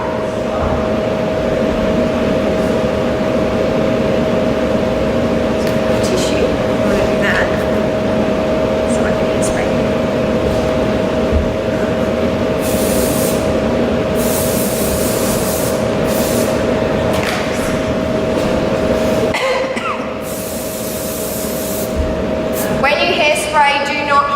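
Hairspray hisses from a can onto hair during Irish dance wig preparation, in a few short, sharp bursts heard over a steady room hum.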